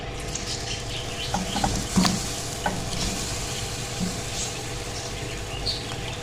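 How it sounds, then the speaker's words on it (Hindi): Marinated chicken hits a small amount of hot oil in a pot and sizzles steadily, with patter and a few scraping stir sounds near the mic and no talking. "और अब हम इसमें मैरिनेट किया हुआ चिकन डाल देंगे सारा।"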